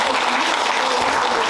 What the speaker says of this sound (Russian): сейчас должны прозвучать аплодисменты